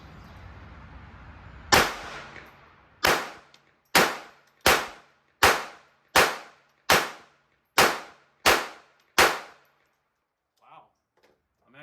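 Federal Premium Hammer Down .22LR rounds are fired from a Ruger LCP II pistol outdoors: about nine sharp, loud shots with ringing tails, spaced roughly evenly after an opening shot, then near silence.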